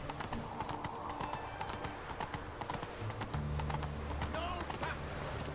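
Galloping horse Roach in The Witcher 3 game, with rapid, steady clip-clop hoofbeats under a dense bed of game sound and music, plus a brief neigh.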